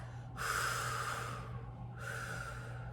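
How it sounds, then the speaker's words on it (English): Two deep, audible breaths drawn in close to the microphone during a singing warm-up, each a long airy inhale separated by a short pause. "take a couple good breaths"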